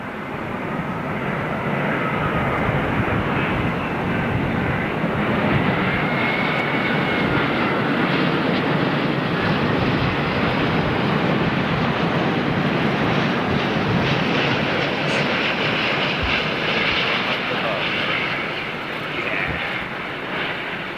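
Virgin Atlantic Boeing 747 G-VLIP descending to land in calm conditions, its four engines making a loud, sustained roar with a steady rumble that tapers slightly near the end.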